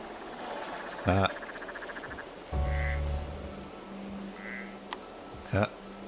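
Frog sounds from a frog leg display in the museum management game Two Point Museum: a few short croaks and chirps spaced over several seconds against a light game ambience with background music tones.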